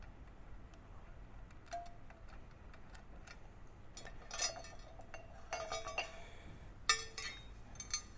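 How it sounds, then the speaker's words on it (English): Bolts being removed from a DeWalt Portaband saw table, heard as sparse light metallic clinks and ticks from nearby, with a couple of brief rattling bursts in an otherwise quiet space. "So remove these bolts."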